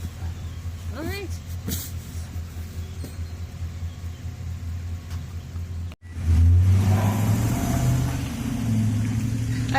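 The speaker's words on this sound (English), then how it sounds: "you hear that truck pulling away? That was the FedEx truck." A FedEx delivery truck pulls away, its mid-pitched engine rumbling and revving up close after a brief pause, loud and steady for several seconds, with people talking earlier in the outdoor garden setting.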